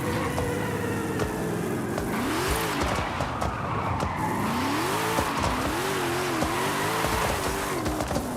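A car in Forza Horizon 5 set up for drifting skids under the e-brake on a steering-wheel rig, engine droning and revving while tires squeal in repeated wavering bursts, loud and continuous with no talking.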